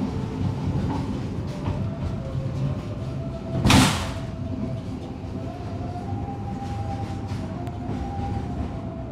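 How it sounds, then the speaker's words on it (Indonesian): The Argo Anggrek train arrives at Semarang Tawang station, rumbling steadily with rolling rail noise and a faint tonal whine, while a sharp burst of hiss near the middle suggests a door or brake release. "kereta api Argo Anggrek tiba di stasiun Semarang Tawang"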